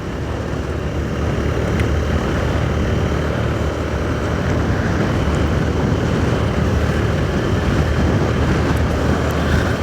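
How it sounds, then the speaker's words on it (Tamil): Strong wind roars steadily into an open helmet visor while riding a motorbike, a loud, constant buffeting rush that fills the whole clip with no pauses. "செம்மையாக காற்று அடிக்குது."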